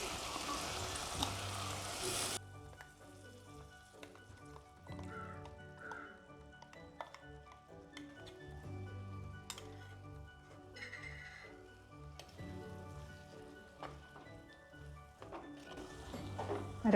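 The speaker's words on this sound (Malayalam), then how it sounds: "അരപ്പ് ചേർത്ത് നന്നായിട്ടൊന്ന് വഴറ്റിയെടുക്കണം" Ground coconut masala paste sautés in a pan with shallots for a Kottayam-style river fish curry, giving a steady soft sizzle with scattered stirring scrapes and clinks, close and moderately quiet throughout.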